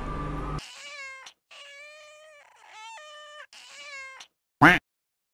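A small black kitten meows repeatedly in drawn-out, high, wavering cries separated by short silences, close and clear, ending with one sharp louder cry.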